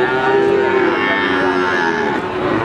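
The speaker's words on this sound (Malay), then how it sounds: "Ini ada sapi-sapi limus ini nih, teman-teman." Limousin cattle at a cattle market in Pati give a long, loud, sustained moo, with market noise in the background and a faint voice nearby.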